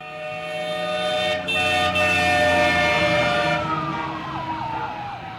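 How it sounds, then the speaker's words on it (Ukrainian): Loud, sustained vehicle horns blare together with street noise, holding steadily before one pitch slides downward and the sound fades slightly toward the end. "На звуки клаксонів озираються перехожі."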